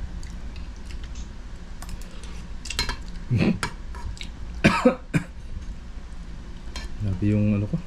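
A person coughs a few times in short, sharp bursts, set against a background of kitchen clatter from dishes and cutlery.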